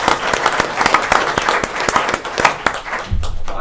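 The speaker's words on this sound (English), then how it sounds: "How about a round of applause for him?" A town board of selectmen meeting in East Lyme, Connecticut, applauds a firefighter honored for his years of service. Sharp, individually distinct claps from a small room of people keep a fairly steady rhythm, then stop abruptly near the end.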